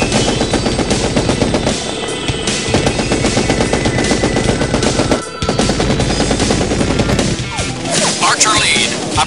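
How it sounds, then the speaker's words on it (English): Rapid helicopter cannon fire from the Jane's Longbow 2 game intro rattles in long, loud, dense bursts with a brief pause midway, mixed with crashes and heavy impacts. "Archer 2 on my mark with cannon"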